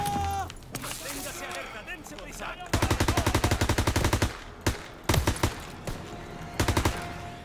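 Bursts of automatic gunfire from the World War II shooter game Call of Duty WW2, rapid rattling volleys followed by shorter separate bursts, loud and close, with a voice talking over the earlier part.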